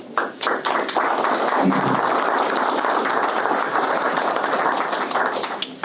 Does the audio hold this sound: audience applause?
yes